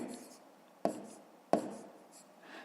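A pen writes on paper during a fifth-grade math exercise, giving soft scratching strokes with two sharp taps as it touches down, close and quiet.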